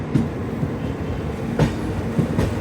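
An Indian Railways WAP5 electric locomotive hauling an express train gives a steady, close rolling rumble, with a few sharp wheel clacks at uneven intervals over the rail joints. No voices are heard.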